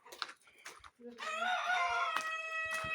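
A rooster crows nearby, a drawn-out harsh call, with a few clucks from chickens and chicks and faint bird noises before it.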